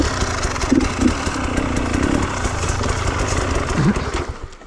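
A KTM TPI motorcycle engine runs close by after an idle screw modification, a steady mid-pitched idle with slight throttle surges and a brief vocal sound partway through.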